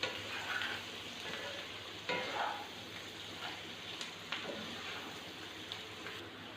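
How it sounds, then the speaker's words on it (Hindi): A spoon stirs beaten eggs in a pan for egg fried rice, giving a soft continuous sizzle with a few scraping strokes at a close, moderate level. "जो ही हम इस पर चम्मच चलाएंगे तो ये बिल्कुल यूनिफॉर्म मिक्सिंग हो जाएगी एग्स की"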